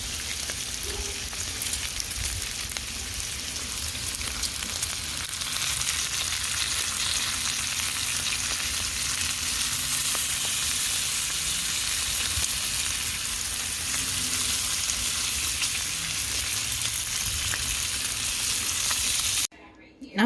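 Bacon sizzling on an outdoor grill, a steady, dense crackle of fat that runs evenly for about twenty seconds with no talking, then cuts off abruptly at the very end.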